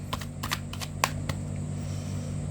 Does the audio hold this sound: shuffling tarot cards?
yes